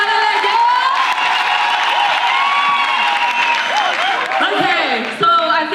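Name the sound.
crowd applause and cheering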